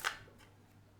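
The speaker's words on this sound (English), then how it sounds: "I'm going to keep shuffling." Tarot cards being shuffled, one quick faint riffle near the start that fades into quiet room tone.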